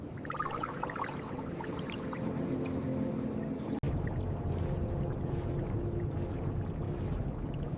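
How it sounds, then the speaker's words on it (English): Flowing water heard at an aquarium, a soft continuous wash and trickle in the background, with one sharp click partway through. "Listen to the sound of the water."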